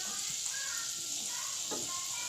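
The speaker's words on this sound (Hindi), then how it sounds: "अब हम इसे अच्छे से तल कर लेंगे।" Eggless rose cookies made from milk and flour batter sizzle steadily in hot oil, a constant close hiss with a few faint bubbling pops.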